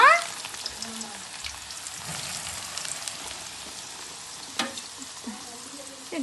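Chopped carrots sizzle and fry steadily in a hot pan for fried rice, a continuous close crackle with occasional stirring noises and no talking.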